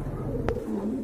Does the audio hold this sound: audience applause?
no